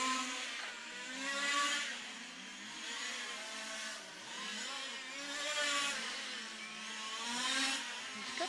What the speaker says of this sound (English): a couple of these cars sound really unpleasant, like they've got clutch slip